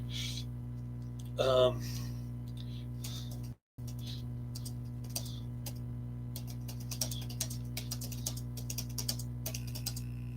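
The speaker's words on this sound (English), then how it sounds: "Let me type something real quick." Light, irregular clicks of typing on a computer keyboard, close and fairly soft over a steady electrical hum, with a brief vocal sound early on and a short dropout in the middle.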